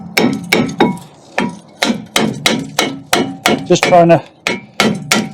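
Sharp hammer blows strike a rust-seized brake disc on a Fiat Panda, about a dozen hard metallic whacks in an irregular rhythm, close and loud, with a few quick rattling hits in the middle and a brief spoken phrase.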